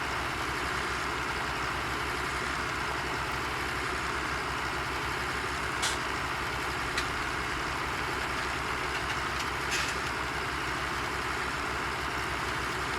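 A tractor in Farming Simulator 17 drones steadily while hauling loaded straw trailers, a low, even engine hum with a few faint clicks on top and no talking.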